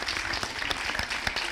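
Audience applause fills a conference room, a dense, steady clatter of many hands clapping throughout with no break.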